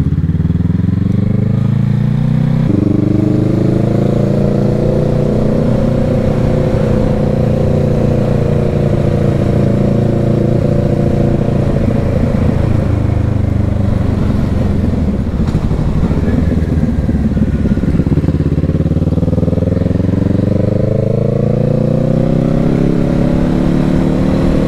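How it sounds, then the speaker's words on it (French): A Kawasaki Z650 motorcycle's exhaust drones loudly and close throughout a ride, its engine pitch sagging in the middle, then climbing again as it revs up toward the end. "J'adore le bruit de ce pot."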